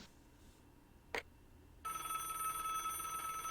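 A telephone rings during a call scene in the Broken Sword adventure game, a short burst followed by a loud sustained ringing tone that fills the rest of the moment.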